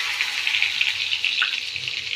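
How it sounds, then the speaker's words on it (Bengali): Cumin seeds crackle and sizzle in hot oil in a kadai, a close, steady hissing fry with small pops throughout and no talking. "কড়াইয়ে একটু জিরে ফোড়ন দিয়ে দিচ্ছি,"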